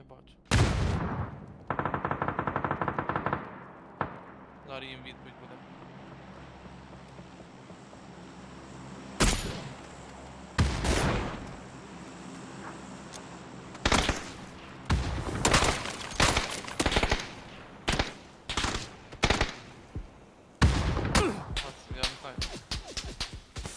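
Bursts of automatic gunfire and single shots from a PUBG match ring out in sharp, irregular clusters, some loud and close, with quieter stretches and faint talk between volleys.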